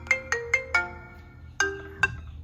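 An iPhone 6s ringtone plays loud and close: a bright melodic chime pattern of six distinct struck notes in a quick rhythm, each ringing briefly, played alone.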